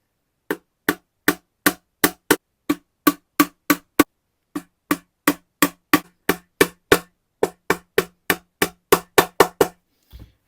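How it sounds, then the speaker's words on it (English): A luthier's hammer with rubber and plastic faces taps hardware onto a flying V electric guitar. Roughly two dozen sharp, evenly spaced knocks come close and loud, with a brief pause midway. "Just use a luthier's hammer with a rubber side and a plastic side"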